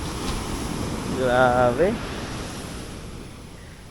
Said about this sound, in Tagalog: Ito na yung beach.